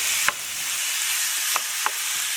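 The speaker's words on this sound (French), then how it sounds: "Dès que c'est chaud, bien, je viens mettre ma viande." Marinated chicken pieces dropped into a hot dry frying pan give a steady, close sizzle with a few sharp stirring clicks, and no voices.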